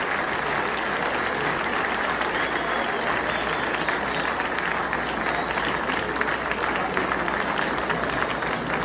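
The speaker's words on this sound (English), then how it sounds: "Clap it up for Taytay" Steady, dense applause from a crowd cheering for Taytay at a Toy Story themed night event, loud and continuous throughout with faint voices mixed in.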